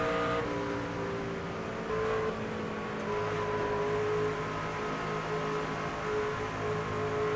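A stock car engine in the NASCAR 25 racing game drones steadily at high revs, a loud, constant buzzing roar with a slight pitch rise as it powers through a turn, with no talk over it.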